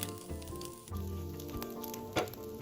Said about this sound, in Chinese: 低火爆香。